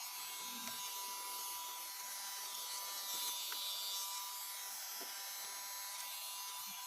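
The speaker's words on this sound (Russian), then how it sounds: "Вот такой вот фонарик-вентилятор." A small battery-powered flashlight fan with an LED light runs with a steady, faint electric whir and buzz, close by, with no talking over it.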